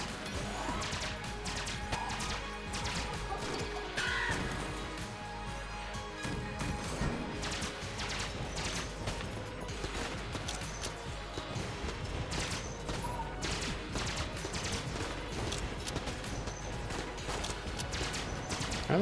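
Rapid, dense gunfire and impact effects from the video game Enter the Gungeon pour out continuously and loudly, with crashes layered over game music.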